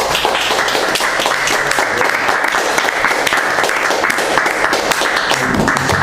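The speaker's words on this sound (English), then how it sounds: "Round of applause for Donal." Loud, dense applause from a room full of people, a steady wash of many hands clapping continuously for several seconds without a break.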